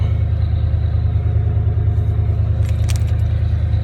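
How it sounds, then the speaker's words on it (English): A Ford F150 truck engine idles in a steady, loud low rumble at the roadside after a repair, with a brief metallic jingle of keys rising over it near the end. "I'm glad it finally cranked up."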